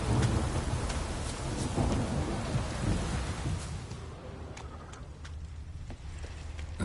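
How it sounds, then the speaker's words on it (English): Video game thunderstorm: steady heavy rain with a deep rolling thunder rumble in the first half, easing into lighter, hissing rainfall with scattered drips and taps toward the end. "A storm, damn it."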